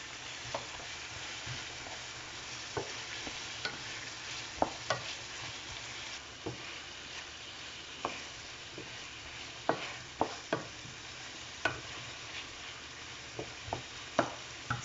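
Onions, tomatoes, scotch bonnet and seasoning fry for a snail dish with a steady, moderate sizzle, punctuated by irregular clicks and taps of a utensil against the pot.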